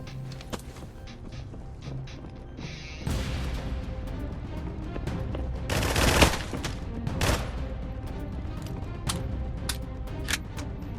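Dense, continuous gunfire from a .45 Vector submachine gun in a video game raid, with rapid bursts and heavier bangs layered over a steady background of game noise, loud and close throughout.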